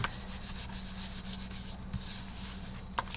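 Paper folio card with a magnetic closure rubbed firmly on its back, giving a steady, close, continuous scraping rub with a couple of light taps along the way.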